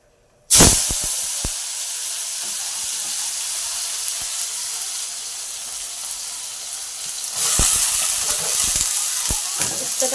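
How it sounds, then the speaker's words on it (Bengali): Sliced bitter gourd drops into a hot salted pan, setting off a sudden loud sizzle. Steady frying hiss and occasional stirring clatter follow, and the sizzle swells again near the end. "এখন বসিয়ে দেবো উচ্ছে ভাজা।"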